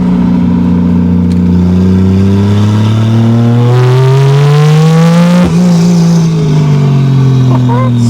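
A turbocharged 2JZ engine swapped into a 1987 Toyota Supra runs and revs, its pitch climbing steadily then dropping and climbing again, loud and close with a strong low drone.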